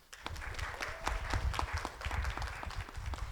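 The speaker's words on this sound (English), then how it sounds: "Please welcome and give a round of applause to Katie Mitchell." An audience applauds to welcome speaker Katie Mitchell at a community culture center event, a steady wash of many hands clapping throughout the short stretch, moderately loud and roomy.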